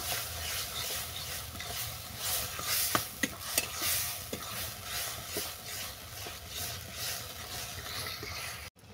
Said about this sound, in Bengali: আরও একটু লবণ দিলাম, কারণ শাকের মধ্যে লবণ দেওয়া ছিল, যার কারণে অল্প করে দিলাম। আর দিলাম গুঁড়ো হলুদ। এটা ভালো করে কষিয়ে নেব।